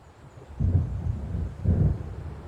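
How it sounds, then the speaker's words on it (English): Low thunder rumbles from an approaching storm in the Alan Wake video game, two rolling swells about a second apart, distant and muffled, with no voices. "It seems there's a storm coming."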